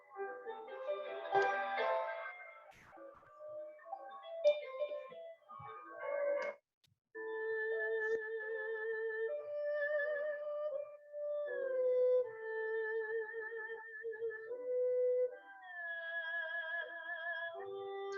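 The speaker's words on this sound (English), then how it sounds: "we'll listen to one of my favorite instruments, the erhu." A solo erhu plays a slow melody of sustained, bowed notes that shift between pitches, starting with a few brief, scattered phrases before settling into longer tones.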